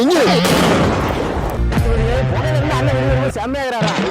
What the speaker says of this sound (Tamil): ரோட்ல பட்டாசு வெடிச்சிட்டு இருக்க